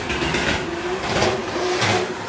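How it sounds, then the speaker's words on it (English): A drift car's engine starts and runs at a drift championship practice round in Cyprus, a steady broadband engine roar with a low hum, moderately loud and continuous, with no talk over it. "car has started up and he's heading back to the start line"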